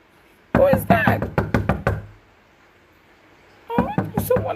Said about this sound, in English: Oh, there's someone at the door. Who is that at the door?